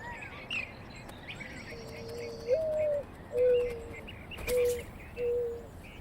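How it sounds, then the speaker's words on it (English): Birds call around flowering saguaro cactus in the desert morning: a few soft, steady whistled notes repeat at a slow pace over a hiss of insects and light chirps, fairly faint and distant. "Birds feast on pollen and nectar"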